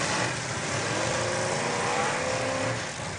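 A demolition derby car, number 31, runs its engine at an outdoor arena event, a loud sustained roar with rising revs and broad noise throughout, no talking.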